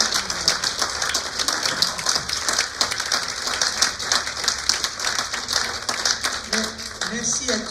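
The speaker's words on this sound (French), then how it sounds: "je vais vous demander d'applaudir un grand, grand bravo à tous nos lauréats d'aujourd'hui" An audience at an award ceremony for the Académie de Saintonge laureates gives sustained, dense applause, a steady patter of many hands clapping throughout.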